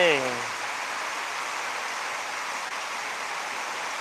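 Light drizzle at home, a soft, even hiss of rain that runs steadily after a brief voice at the start.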